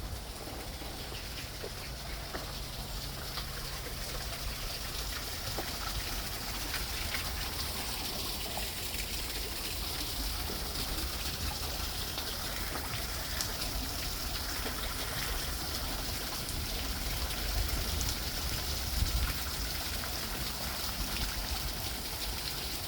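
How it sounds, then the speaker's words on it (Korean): A small water wheel turns in flowing water at an arboretum garden, with a continuous rushing, trickling stream sound filling the whole stretch at moderate, even loudness. "이제 물레방아."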